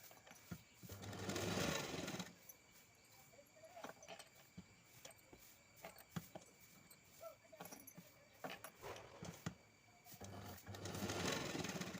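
A sewing machine stitching a lined blouse, with two steady whirring runs at the start and end separated by quieter handling clicks and rustles.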